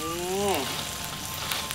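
Meat sizzles in a hot grill pan at an indoor barbecue, a loud, steady frying hiss running throughout, with a brief voice at the very start.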